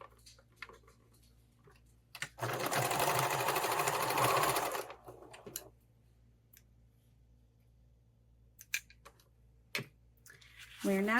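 A sewing machine stitches down folded webbing tails on a fabric tool roll, one steady loud whirring run of about two and a half seconds, followed by soft handling clicks and rustles under quiet background hum.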